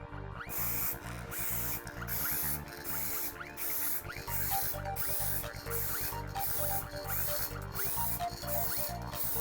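A spray can hisses out a thin first coat of paint outdoors in short repeated bursts, loud and close, with a steady rattling mechanical texture under the spray and no talking.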